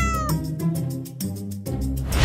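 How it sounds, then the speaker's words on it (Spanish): A kitten meows several times in quick succession, close and fairly loud, its high cries rising and falling with short gaps between them. "¡Un gatito!"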